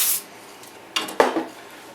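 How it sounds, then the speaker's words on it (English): Clipper cleaner sprays in two short, close hissing blasts into a set of hair clippers, with a brief rub beforehand. "Blast it with my clipper cleaner"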